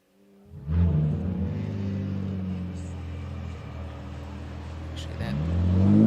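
A GT4 race car pulls away from the pit box at a racing circuit, its engine note rising from a low rumble into a sustained drone that swells again toward the end, heard at moderate distance.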